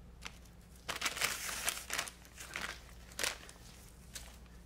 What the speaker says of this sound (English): you have baby wipes and your paper towels, is you just want to pull out as many as you're going to use.